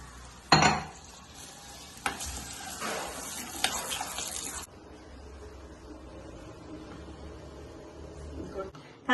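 Cashews sizzle in ghee in a pan for sweet rice pudding (paramannam), with a loud burst of frying and a clatter of stirring for the first few seconds before it settles into a quieter, steady hiss.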